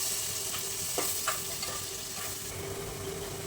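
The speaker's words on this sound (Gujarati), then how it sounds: "બધા વેજીટેબલ આપણા સરસ તેલમાં ફ્રાય થઈ ગયા છે" Crushed vegetables fry in a mix of oil and butter for masala pav, giving a continuous, even sizzle close by, broken by a few faint scraping stirs of a spoon.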